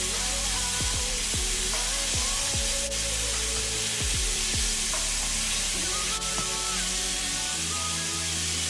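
Chicken wings deep-frying in oil heated to around 350–380°F, a loud, dense, continuous sizzle and bubbling close up, with a few sliding tonal sweeps from moving the pot or utensils, no talking.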